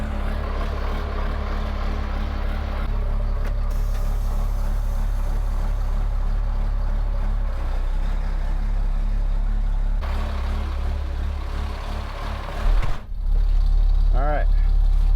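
A CAT 3126 diesel swapped into a Ford F350 with an Allison 2000 transmission rumbles steadily at a loud, low idle throughout, with a brief dip and restart-like surge near the end and faint talk over it.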